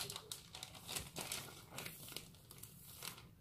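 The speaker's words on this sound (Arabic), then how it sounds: "ونقلعوا هذا البلاستيك اللي كان معاونا" Plastic wrap being slowly peeled off a molded dessert in a home kitchen, a steady run of close crinkling and crackling with occasional soft tearing, with no talking.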